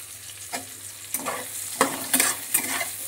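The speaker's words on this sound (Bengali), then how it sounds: "এইবার ভালো করে একদম ভেজে নিতে হবে।" Chopped onion fries with dried red and green chillies in a pan, a soft steady sizzle broken by several distinct scraping stirs of a spatula, close up with no talk.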